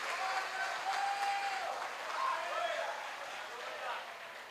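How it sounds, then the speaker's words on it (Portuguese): A church congregation applauds during a Portuguese-language evangelical service, a sustained, moderately loud wave of clapping that swells and eases, with faint voices mixed in. "Você pode aplaudir a Deus com força?"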